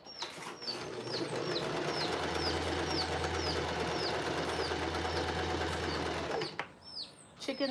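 A sewing machine runs in a steady, continuous whir for several seconds while stitching quilt star blocks, then stops, while chickens chirp and cluck faintly in the background.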